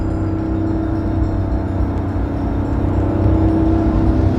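Porsche 911 GT3 engine revving moderately, a steady throaty rumble that builds slightly toward the end, loud and close with no talk.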